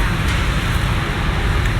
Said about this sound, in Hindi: रश इतना ज़्यादा है, इतना ज़्यादा शोर है ट्रैफिक का कि क्या बताऊँ